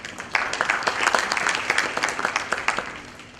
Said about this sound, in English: Can I please invite her on stage as we put a round of applause for her?